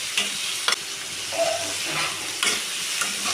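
Tomatoes stirred as they fry in a pan, a steady hissing sizzle with a few sharp scraping strokes of the spoon close by, no voices.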